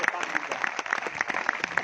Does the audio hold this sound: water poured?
no